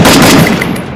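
Rapid gunfire from the battle royale video game Garena Free Fire, a loud, dense burst of shots filling the whole second with no talking over it.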